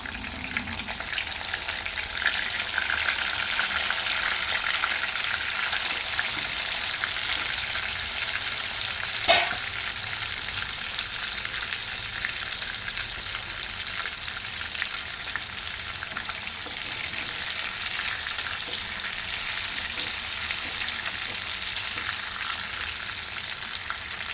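Cut eggplant fries in hot oil, a steady close sizzle with soft crackling that runs throughout, plus one brief clink of a utensil midway.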